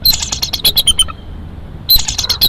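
A bald eagle near its nest in Big Bear Valley gives an intense chortling alarm call: loud bursts of rapid, high, piercing chirps, a short pause, then another burst.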